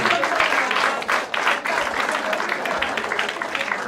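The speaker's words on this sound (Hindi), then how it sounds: "दोस्तों जोरदार तालियों से स्वागत कीजिए" A crowd at a Hindi poetry (shayari) performance greets a poet with vigorous, continuous applause that stays loud and close throughout, swelling and dipping slightly.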